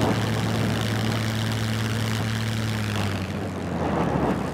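A propeller airplane takes off in the survival game SCUM, its steady engine drone holding loud and close with a droning tonal hum, then thinning into rushing air near the end.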